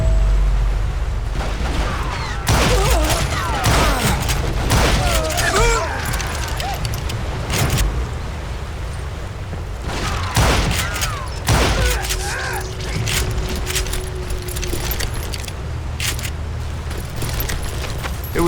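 Repeated gunfire in a Wild West shootout from Call of Juarez: Gunslinger, loud sharp shots scattered through the scene over game effects and a narrating voice.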